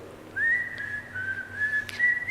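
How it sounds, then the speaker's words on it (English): A single person whistles a sustained, wavering tune close by, the melody sliding smoothly with a brief break near the end, with no talking. "But then the advisors heard someone whistling."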